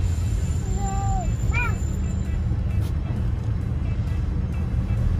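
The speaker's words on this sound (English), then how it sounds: "We are driving fast." A car driving fast on the road, heard from inside as a steady, loud low rumble throughout, with a brief high voice-like tone early on.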